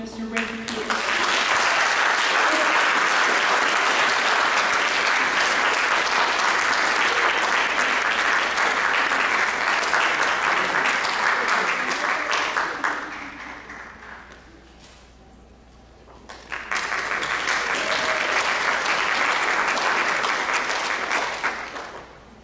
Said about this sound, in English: Let's give a round of applause for Mr. Rick Peterson.